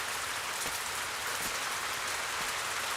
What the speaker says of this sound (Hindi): बेटा बारिश हो रही है, भीग ले नहीं तो सूखा ही मरेगा।